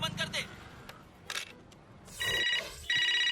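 A telephone rings in short electronic bursts, two clear ring pulses near the end with faint speech and rustle before them, at moderate level.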